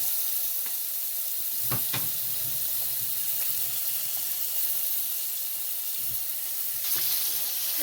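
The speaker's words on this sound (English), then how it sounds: "once this starts frying, if you have it in high, the chorizo is going to burn really fast" Steady, close sizzling of chorizo frying in a pan, with a few soft clinks of a utensil stirring.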